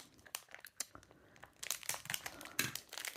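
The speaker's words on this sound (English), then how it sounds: "I'm just going to have to rip the bag" A plastic bag of tools and storage items from an online haul is torn and crinkled open by hand: quiet, close bursts of crackling and rustling, growing busier and louder toward the end, with no talking.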